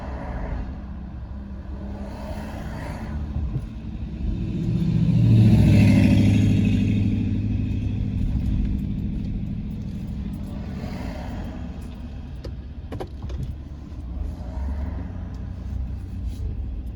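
Vehicles pass one after another on a road near Elkmont, a car swelling to a broad engine rumble and fading, followed by fainter passes over a steady low background.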